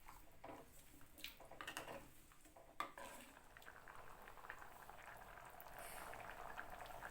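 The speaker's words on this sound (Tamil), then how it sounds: "இப்போ குழம்பு வந்து கொதிச்சிக்கிட்டு இருக்கு." Chana masala gravy made with chickpeas bubbling in a pot on the stove, a soft steady simmer of small popping bubbles with a few faint utensil clinks, quiet and close, no talking.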